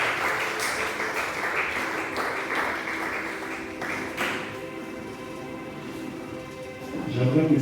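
Congregation applauding during a church service, a dense wash of clapping for several seconds that thins out and fades, with a voice heard near the end.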